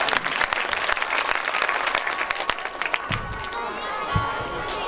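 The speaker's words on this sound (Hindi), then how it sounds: "परीक्षित जी के लिए एक बार ताली बजा दो" An audience claps at a devotional Krishna katha gathering, a quick burst of many hands with a few sharp individual slaps, tapering off over a few seconds into low murmurs and room noise.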